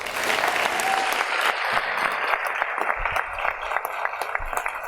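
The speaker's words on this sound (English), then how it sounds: "Please give them a round of applause." Audience applause at a 2019 senior graduation ceremony, a dense, steady round of clapping from a large crowd that thins slightly toward the end.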